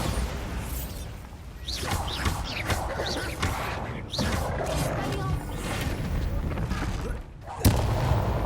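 Confringo and Bombarda spell blasts fired in the video game Hogwarts Legacy, a rapid run of sharp explosive bursts and booming impacts with whooshes, mixed with a character's shouted voice.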